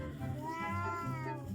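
A cartoon cat gives a clear, drawn-out meow with a rising and falling pitch, close and fairly loud, with no talking over it.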